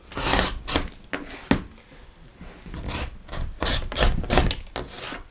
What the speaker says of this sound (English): I'm just going to trim it off, holding it nice and firm